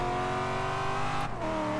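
Corvette race car in Forza Horizon 3 on a rainforest sprint, engine howling at high revs, then a sharp break as the gear shifts and the note settles lower; loud and steady with no talk.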